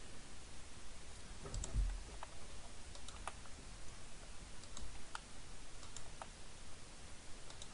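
Mouse clicks and a keypress on a computer keyboard at a desk, heard as scattered faint, sharp ticks over a steady low hiss, with no talking.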